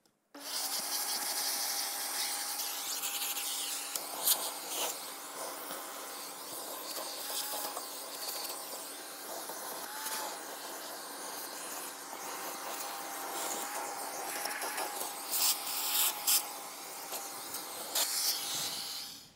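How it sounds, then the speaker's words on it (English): A vacuum cleaner sucks dirt and debris out of an RV camper air conditioner, a loud, steady, close-up rushing hiss that runs unbroken throughout with occasional scraping bumps. "All right, I vacuumed all this stuff out."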